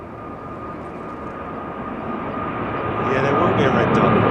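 A Singapore Airlines jet airliner departs Heathrow's runway 09R, its engine roar building steadily louder over a few seconds while voices murmur faintly.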